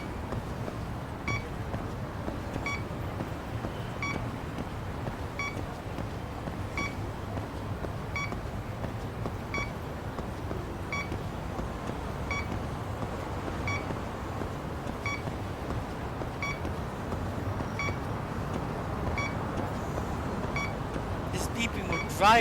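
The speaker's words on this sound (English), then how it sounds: "This beeping would drive me nuts after a while, but at least it's not too loud." Repeated beeping from the video game Lost Judgment, a steady train of short evenly spaced tones sitting at moderate level over a continuous low hum and background game ambience.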